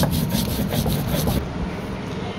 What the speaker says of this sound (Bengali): এগুলো মিলাই আমি খুব ভালো করে বেটে নিচ্ছি পাটায়।